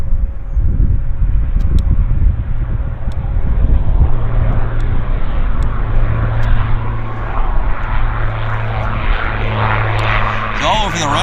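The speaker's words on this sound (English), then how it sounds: "It's a bit of a wonky landing, but got her now." A propeller courier plane from Carson Air touches down on a wet runway at YVR, a loud, close, steady engine drone with rising whine and hiss throughout, someone talking over it.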